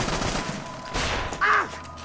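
A sniper rifle shot in Assassin's Creed: Rogue, with a sharp, loud report over a background of game combat noise and a short electronic tone.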